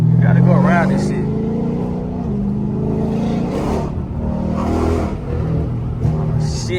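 Car engine revs and drops through a hard downshift while driving in heavy traffic, a steady low drone with rising and falling pitch, close and loud, with someone talking over it throughout.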